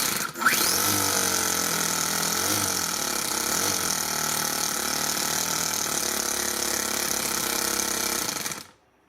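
A Toyan FS-S100G miniature four-stroke RC engine with a starter motor runs steadily with a fast, buzzing, rattling chatter at close range before cutting off abruptly at the end.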